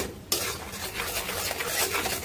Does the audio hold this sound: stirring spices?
yes